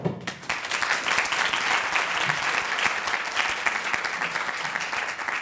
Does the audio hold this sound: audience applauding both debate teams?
yes